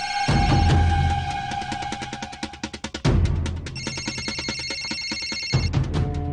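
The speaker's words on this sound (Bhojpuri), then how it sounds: "हाँ हाँ मालिक, जटाशंकर यादव जी के फोन है।" A telephone rings in repeated electronic trills, loud and close, with a short break midway before the ringing resumes; no one speaks.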